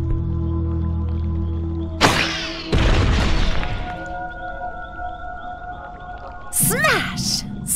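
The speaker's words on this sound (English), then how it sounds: "Smash! So much for the stone slab." A stone slab smashes in the video game Adventure Time: Finn and Jake Investigations, with a sudden loud crash and crumbling debris followed by a second impact, set against a steady game music bed and a whooshing effect near the end.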